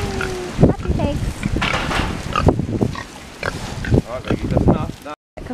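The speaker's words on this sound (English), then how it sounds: "Happy pigs." Pigs grunt and oink repeatedly up close outdoors, with short snorting bursts scattered throughout amid some wind, and a person talks between them.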